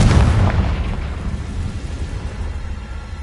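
A Confringo blasting-curse explosion in the Hogwarts Legacy video game: a loud, close boom at the start that decays into a long rumbling tail, with no voices.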